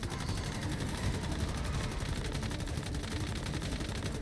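Rapid automatic gunfire from a hard-recoiling weapon in the survival shooter Once Human, a dense continuous burst of shots filling the whole stretch at close range, with no voices over it.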